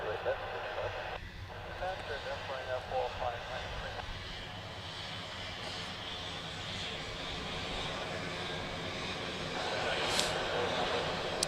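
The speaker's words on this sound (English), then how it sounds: "British Airways, obvious being an Embraer, it's in from London City" Steady roar of a British Airways Embraer jet arriving at Dublin Airport from London City, a broad engine rumble that swells slightly toward the end, with a person talking over it.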